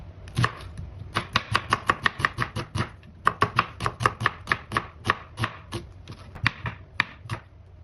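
An onion is chopped with a knife on a board, rapid close rhythmic chops in two long bursts separated by a short pause.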